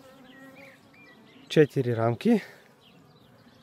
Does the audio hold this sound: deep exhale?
no